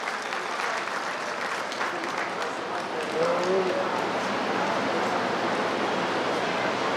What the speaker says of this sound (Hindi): जोरदार तालियों से एक बार दीदी का स्वागत करें।